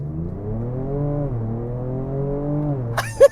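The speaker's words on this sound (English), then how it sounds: "giving it a little bit more throttle than I should just so that I can hear that exhaust note" A 2025 Ford Ranger Raptor's engine drones steadily under throttle, its exhaust note holding a smooth pitch that dips and climbs slightly, ending with a short sharp clatter at the close.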